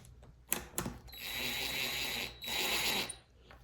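Screws on a 1998 Yamaha YZF600R Thundercat carburetor tightened with a ratcheting tool, a few sharp clicks followed by two sustained buzzing ratchet runs, close and fairly loud with no speech.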